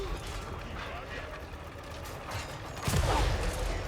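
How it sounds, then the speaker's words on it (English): Clanking, ratcheting artillery machinery and a burst of firing in the Total War: Warhammer 3 video game, a continuous mechanical clatter with a heavier boom near the end, all under a busy battle din. "I love the clanking sounds that these and all the other artillery make."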